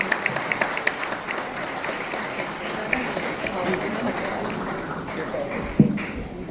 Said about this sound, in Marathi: आपण सगळ्यांनी उभं राहून टाळ्यांच्या गजरात अशोक निवेदिता ताईंना मानाची पैठणी देऊन आपण त्यांचा सत्कार करत आहोत